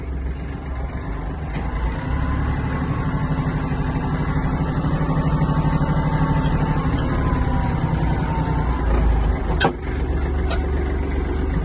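A Kubota GL-260 mini tractor pulls away in first gear, heard from inside the cab as a steady, loud diesel drone with a faint whine and one brief click, and no talking.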